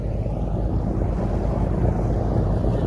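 Bertram 28 boat underway on open water, its port engine troubled by a stuck throttle, heard as a loud steady engine rumble mixed with heavy wind buffeting and water rush.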